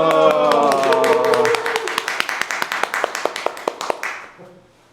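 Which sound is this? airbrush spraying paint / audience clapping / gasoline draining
audience clapping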